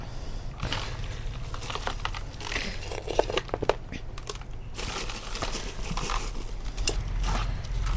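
Treated, watered soil is tipped and pressed into a grow bag, giving a dense, continuous rustling and crumbling texture with soft gritty crunches throughout, close and fairly quiet, with no talking.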